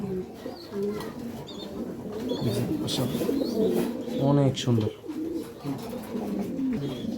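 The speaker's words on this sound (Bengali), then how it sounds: "নরের ডাক মাদির ডাক কবুতরগুলি অনেক সুন্দর" Pigeons, both a male and a female, coo repeatedly in soft rolling calls close by while someone talks over them.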